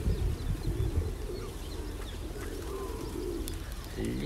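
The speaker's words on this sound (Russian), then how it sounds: "Голубь — это птица Бога, получается" A pigeon coos softly in low, murmuring calls against a quiet outdoor background, with no speech.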